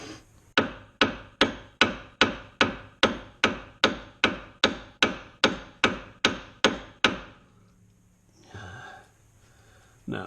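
Hammer blows striking a CV axle on a 2013 Ford Focus, a steady run of about fifteen sharp metallic hits at an even pace, loud and close, then a short pause and some faint handling noise.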